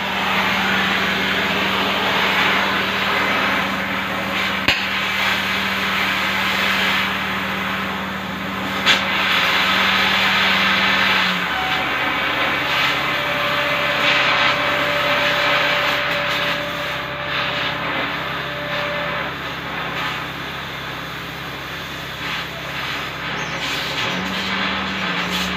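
Oxygen cutting torch slicing through steel, a steady loud roaring hiss with a low hum that drops partway through and returns near the end, no talking.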